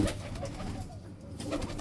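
Soft, low pigeon cooing repeats through the short stretch, steady and fairly close, with faint background noise and no talking.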